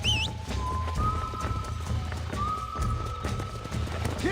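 Hoofbeats of a galloping horse in the video game Red Dead Redemption, a fast rhythmic clip-clop heard under music and game sounds.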